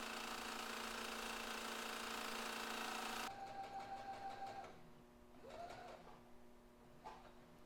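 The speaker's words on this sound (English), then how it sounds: "we're going to sew that down now" Sewing machine stitching down a sleeve lining in garment sewing: a loud, steady motor whir for about three seconds, then it stops, leaving softer intermittent clicks and faint whines from the machine.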